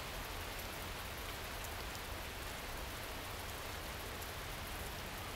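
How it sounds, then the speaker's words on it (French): Rain falling steadily, a dense even hiss of drops on surfaces, constant and fairly soft throughout with no voices. "Tu entends le bruit de la pluie?"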